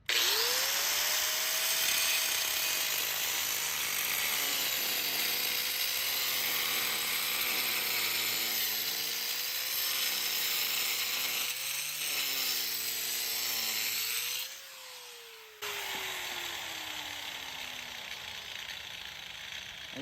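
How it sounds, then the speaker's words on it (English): An angle grinder fitted with a diamond blade cuts into flagstone, a loud sustained high whine whose pitch dips and wavers as the blade bites, then briefly cuts out and spins down near the end. "You just take your grinder out, that diamond blade, it's like I said, it's going really fast."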